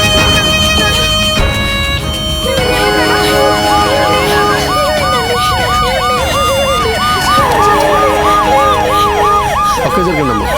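An ambulance siren wails loud and close near an accident beside the Vikarabad highway, its rising and falling cycles repeating over steady traffic noise.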